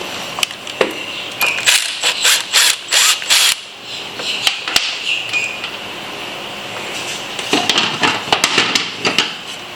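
A ratchet tightens the bolt on a Harley-Davidson Touring bike's starter during an open belt drive install, giving bursts of quick metallic clicking with pauses between, close and fairly loud, with no talking.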